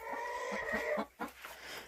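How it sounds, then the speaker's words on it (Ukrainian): Chickens cluck and squawk in quick, uneven bursts close by, several birds calling over one another in a poultry yard. "Боже, ці кури, як ви мене дістали? Чого ви орете?"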